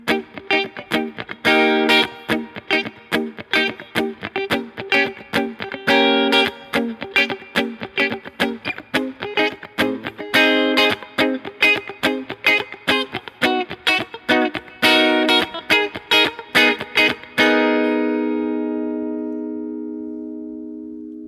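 An electric guitar strums chords from a song in a steady repeated rhythm with a bright, effected tone. After about seventeen seconds it stops strumming and a final chord rings out and fades. No voices are heard.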